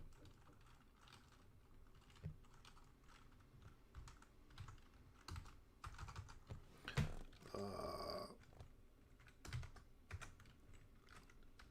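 Worn computer keyboard being typed on, a faint, steady patter of individual keystrokes with brief bursts of faster clicking, close but quiet and with no voices.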